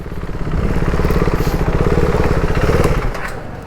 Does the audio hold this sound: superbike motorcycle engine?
yes